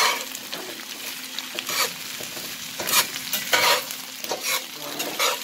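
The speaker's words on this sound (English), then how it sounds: "Get everything nice and coated in the olive oil so that it fries up." Potatoes and onions tossed in olive oil in a frying pan, crisp sizzling punctuated by repeated rhythmic bursts of tossing and stirring, close and fairly loud with no talking.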